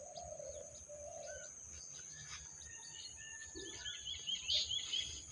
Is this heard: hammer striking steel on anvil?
no